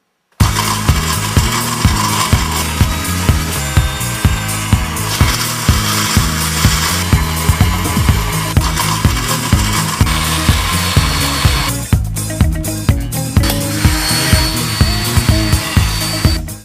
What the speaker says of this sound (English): So tonight we're going to blend my blender.